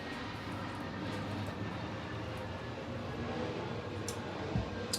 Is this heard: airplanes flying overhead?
yes